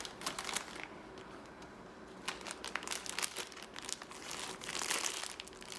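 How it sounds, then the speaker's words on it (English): Plastic baggie being filled with frosting for edible trucks, crinkling close and quiet in irregular bursts that pick up toward the end, no voices. "we are going to be taking our frosting and putting in our plastic baggie"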